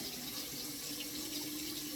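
Warm tap water runs steadily into a bathroom sink to dampen a washcloth, a continuous soft splashing hiss with no pauses.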